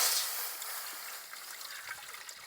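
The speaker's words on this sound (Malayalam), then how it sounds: "ഈ ഒരു ചട്ടിയിൽ കുറച്ച് വെള്ളം ഒഴിച്ചിട്ട്" Water poured into a cooking pan for boiling semiya gives a soft, fairly close trickling splash that starts strongest and fades gently to a light dribble.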